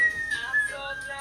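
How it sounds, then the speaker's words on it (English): A whistling kettle on a stove, boiling, gives a steady high, thin whistle that wavers slightly in pitch for about a second, fairly close and alone. "If you hear a whistling sound, that's my kettle boiling"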